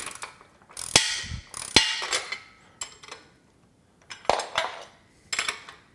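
Ratchet wrench tightening bolts while assembling a Body Solid EXM3000 home gym, loud close metallic clicking bursts separated by short pauses, with occasional clanks of metal parts.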